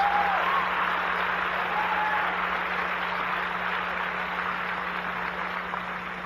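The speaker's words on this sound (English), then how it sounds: "I don't know why you're clapping." Clapping from a church audience during a sermon rolls on as a broad, steady wash of applause, loud at first and slowly fading, with a low constant hum beneath and no speech.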